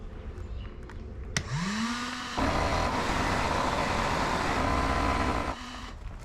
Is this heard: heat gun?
yes